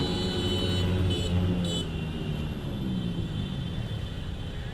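Cars rolling slowly in a protest motorcade through a Bangkok street, a loud steady engine rumble with low droning tones and continuous traffic noise, no voices.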